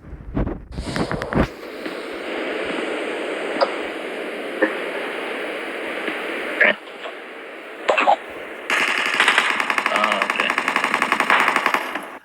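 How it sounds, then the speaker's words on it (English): PUBG Mobile gunfire crackles in scattered shots and rapid bursts over a noisy, hissing background, ending in a quick run of repeated shots. "gunshots coming from this direction."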